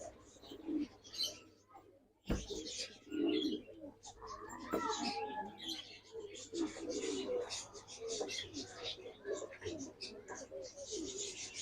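Old classic pigeons in a loft coo repeatedly nearby, with soft calls overlapping under someone talking.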